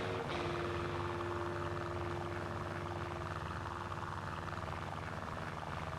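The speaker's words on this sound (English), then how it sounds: "The engine of this aeroplane, it sounds like somebody taking a straw and blowing into a glass of water." Steady, low engine drone inside a light aeroplane flying in Norway from Namsos to Stokka, heard as a continuous hum with a sustained tonal whine.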